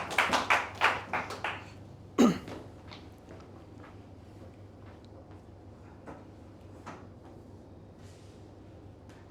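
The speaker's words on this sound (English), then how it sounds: "Everyone with a big round of applause." Brief burst of hand clapping from a seminar audience greeting a speaker at a public speaking training event, a quick flurry of claps near the start that fades into a quiet room.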